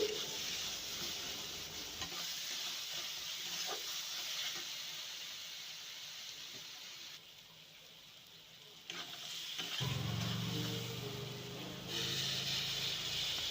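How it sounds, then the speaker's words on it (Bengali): Turmeric and red chilli powder fry in hot oil in a pan while being stirred for a pangas fish curry, giving a continuous close sizzle with scraping stirs that swells louder toward the end. "দিয়ে ভালো করে মশলাটা নাড়াচাড়া করে ভেজে নেব।"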